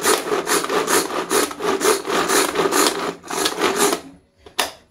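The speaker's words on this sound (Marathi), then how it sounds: "ऑनियन, कांदा मी चॉपरमधनं कट करून घेते" Onion being cut in a hand-pulled manual chopper, a fast rhythmic run of loud whirring rasps that pauses, then ends with one last sharp pull.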